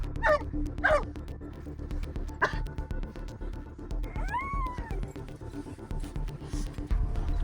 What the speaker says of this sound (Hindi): फीमेल डॉगी, इसको हमने डाल दिया